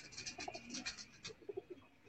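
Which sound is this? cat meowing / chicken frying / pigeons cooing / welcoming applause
pigeons cooing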